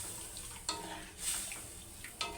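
Vegetables frying in a pan, a faint, steady sizzle with occasional light utensil clinks and stirring scrapes, heard up close.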